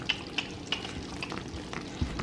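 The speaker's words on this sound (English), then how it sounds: "All right, so we're adding the mushrooms." Mushrooms and shrimp fry in a pan, crackling and sizzling close up with a few sharp stirring clicks spaced through the clip.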